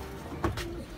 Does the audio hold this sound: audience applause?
no